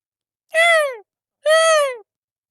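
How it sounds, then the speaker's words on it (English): Two loud, harmonic seagull calls, each about half a second and falling in pitch, separated by a short pause, ringing out close against silence. "Imagine that was a seagull, actually."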